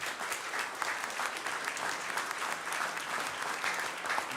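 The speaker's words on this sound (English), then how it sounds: "let's give these officers and their families a round of applause" Steady, dense applause from an audience at a city council meeting, honouring police officers and their families. Many hands clap together at an even level for the whole stretch, with no voices above the sound.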